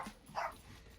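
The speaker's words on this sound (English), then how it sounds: "My dogs are going nuts" Dogs barking somewhere in a home, a single short bark or yelp, faint and distant, over quiet room tone.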